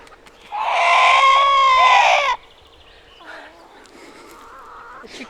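A chicken on a small farm in northern Sweden lets out one loud, harsh squawk lasting about two seconds. Fainter clucks and calls follow close by.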